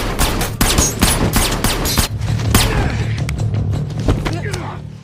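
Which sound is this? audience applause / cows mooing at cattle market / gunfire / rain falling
gunfire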